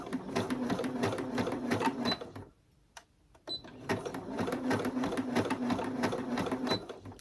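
A sewing machine set on slow speed runs steadily and close by, its rapid mechanical stitching rhythm pausing briefly in the middle before starting up again at the same pace.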